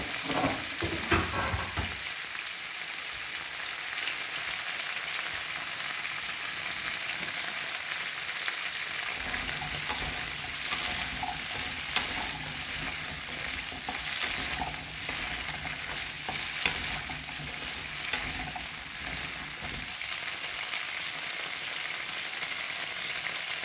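New potatoes frying in a pan, a loud, continuous sizzle and crackle that holds steady throughout, with occasional faint scraping.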